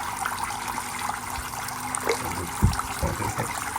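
Water trickles and splashes steadily from an aquarium spray bar nearby, a continuous liquid burble with a few louder gurgles and drips, no voices.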